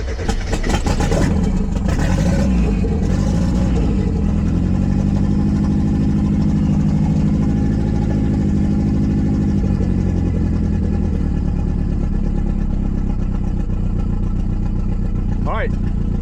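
Mazda Miata engine idling loud and steady with an open downpipe, running new Deatschwerks injectors after a fuel adjustment, a continuous low rumble filling the whole stretch with faint talk over it.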